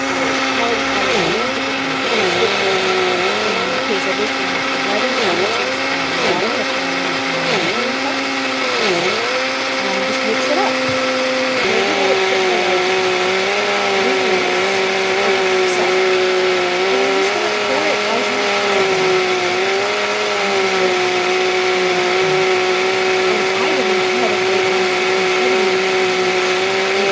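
A kitchen grinder blends chutney ingredients for South Indian uttapam, a loud continuous motor whine that pulses in short surges at first, then settles into a steady high-pitched drone.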